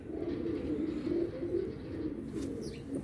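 Pigeons cooing close by, a repeated low throaty warble rolling on continuously in soft overlapping phrases, with a faint rustle near the end.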